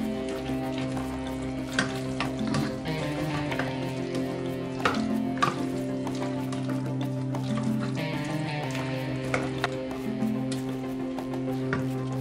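Tofu simmers with green beans and tomato in a pan, giving a steady bubbling sizzle with occasional soft pops and stirring sounds, close and continuous without speech.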